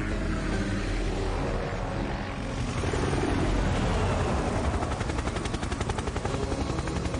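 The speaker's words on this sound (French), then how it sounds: "Moi, ce que je vois, c'est un drone." Small toy drone flying close by, a steady buzzing whir with fluttering rotor pulses that holds throughout and grows slightly stronger partway through, with no talking.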